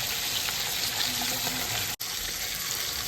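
Fish frying in oil in a kadai, a steady close sizzle with bubbly crackle running throughout and a brief dropout near the end.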